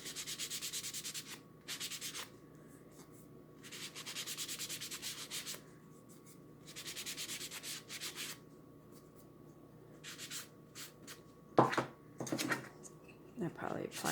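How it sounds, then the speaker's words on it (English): Wax is rubbed onto a wooden autumn decor piece, a soft, close scrubbing in repeated bursts of several seconds with quiet pauses between them and a person talking in the gaps. "Now you can apply as much or as little wax as you would like."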